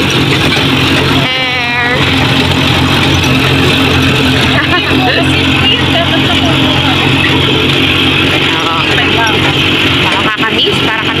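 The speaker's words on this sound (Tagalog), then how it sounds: "Papunta na kami sa Villa Escudero. Naka-tricycle kami." A motorized tricycle's engine drones loud and constant throughout a ride toward Villa Escudero, with rushing wind noise and a voice speaking briefly over it.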